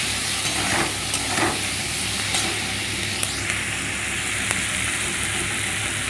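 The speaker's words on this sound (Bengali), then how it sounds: "পেঁয়াজ টমেটো সব দিয়ে দিলাম। অল্প একটু নাড়বো নেড়ে," Onions, tomatoes and egg sizzle steadily in a hot pan, a close, continuous frying hiss with a few soft stirring scrapes, no voices.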